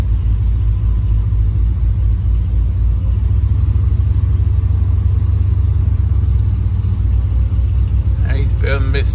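Big old tractor engine labouring up a hill, a loud continuous low rumble that stays heavy and even, with a brief faint sound near the end.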